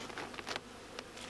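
A short burst of honey bees around a hive full of adult bees, a close, uneven hum broken by brief louder flickers as individual insects pass.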